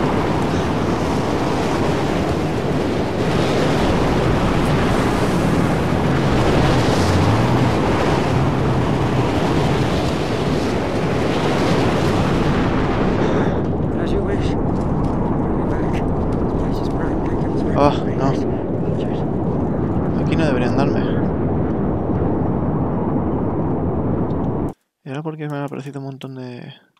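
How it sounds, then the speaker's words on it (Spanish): A huge storm roars in the Mad Max video game, a loud continuous wind-and-sand rush that thins out midway into gustier, fainter noise before cutting off near the end. "Venga, pasa ya, maldita tormenta."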